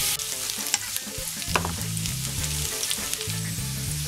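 Potato pieces fry in hot oil with garlic added, giving a loud, steady sizzle and crackle. Repeated scrapes and knocks of stirring run through it, and nobody speaks.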